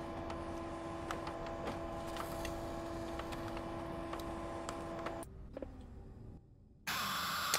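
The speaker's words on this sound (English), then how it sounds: "because we have this loud ass printer noise that we have to deal with" A loud printer noise in a FNAF video game, a steady mechanical drone with regular ticking clicks that runs for about five seconds, then cuts out into near quiet and returns abruptly. No one talks.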